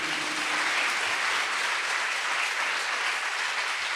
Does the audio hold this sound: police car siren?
no